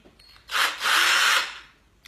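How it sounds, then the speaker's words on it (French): A cordless drill-driver whirs in two short loud bursts, a brief spin then a longer steady run, while building a wooden busy board for children. "un petit coup de perceuse visseuse"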